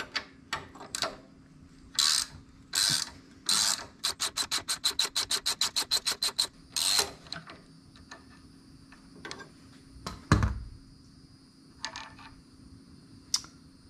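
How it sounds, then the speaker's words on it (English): A 6mm Allen wrench loosens the gear shift pivot bolt on an Aprilia Tuareg 660 motorcycle, producing sharp close metallic ticks, a fast run of evenly spaced ratcheting clicks, then scattered clinks and a low thud. "we're going to take this gear shift pivot bolt out and replace it with this titanium one"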